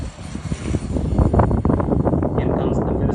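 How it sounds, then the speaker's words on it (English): A small unmanned aerial vehicle launched for takeoff outdoors, its engine making a loud, steady, rumbling drone mixed with heavy wind noise. "Launching the aircraft."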